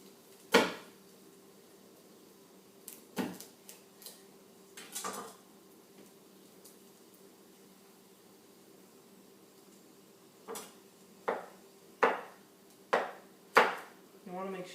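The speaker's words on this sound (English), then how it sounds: "we're going to chop up some garlic so we can give it a little flavor" A knife chops garlic on a cutting board in sharp, separate knocks, a few early on, then a quicker run of clacks near the end, with quiet gaps and faint clatter between them.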